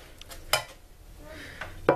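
Dry onion husks tipped into a pot in a home kitchen, giving a couple of brief rustling, clattering bursts against the metal with quiet gaps between them.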